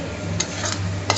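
Bihari-style meat being stirred in a cooking pot, a few scraping and clinking strokes over a steady low sizzle, close and moderately loud with no talking.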